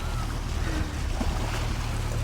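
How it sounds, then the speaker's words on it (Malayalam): Boat on open water near Kumarakom, a steady low engine rumble with wind and water wash, continuous and moderately close. "ഒരു ബോട്ട് നമ്മൾ ലക്ഷ്യമാക്കി വരുന്നുണ്ട്"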